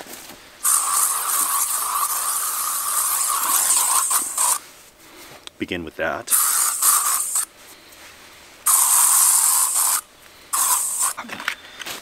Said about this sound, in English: Off bug spray.